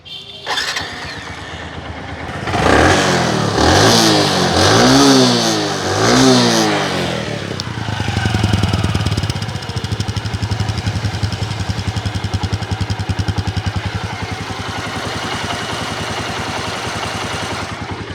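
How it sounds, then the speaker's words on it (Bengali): Second-hand Bajaj motorcycle, a Platina or CT100, revs loudly in several rising bursts, then settles into a steady, close putter at idle. "যদি গাড়ির ইঞ্জিনের কন্ডিশন আপনাদেরকে একটু শোনানোর চেষ্টা করি"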